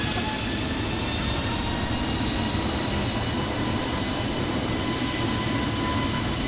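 An airplane engine roars steadily during takeoff in Microsoft Flight Simulator 2020, a loud, broadband, continuous drone with a faint high whine running through it and no voices.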